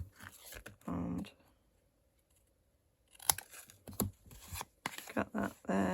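Scissors snip through paper scraps cut into tag shapes for Christmas journal tags, a few close, crisp cuts separated by a quiet pause, with faint handling noises between them.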